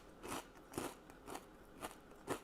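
Someone chews a crunchy crouton from a homemade Caesar salad, five evenly spaced crisp crunches close up with no talk.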